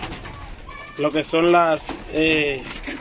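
Collared doves coo in short repeated phrases close by at a bird breeding aviary, while a person speaks over the calls.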